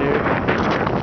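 Wind gusting after an Oklahoma snow storm buffets the microphone as a steady, loud rumbling roar across the whole moment.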